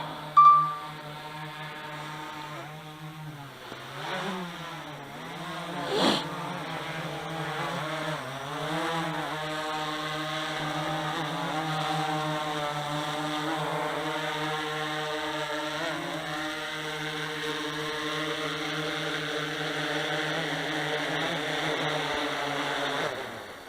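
A DJI Inspire 1 drone hovers and flies after repairs and mods, its propellers giving a steady, tonal buzzing whine that wavers in pitch as the motors change speed, close and continuous, with no speech.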